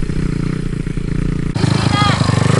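A dirt bike with a manual clutch pulls away, its engine note loud and close, with a steady motorcycle rumble that rises in intensity halfway through as the bike moves off; people talk over it.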